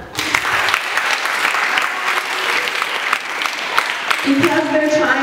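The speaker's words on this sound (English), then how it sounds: "clap for them" Audience applause for youth honorees at a community gathering in Gulfport, Mississippi, a strong, even wash of clapping that carries on steadily before a voice comes in toward the end.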